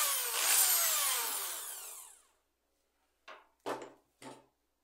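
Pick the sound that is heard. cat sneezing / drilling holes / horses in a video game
drilling holes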